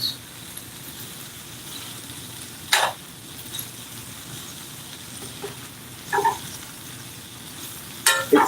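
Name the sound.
onions and spicy sausage browning in a pan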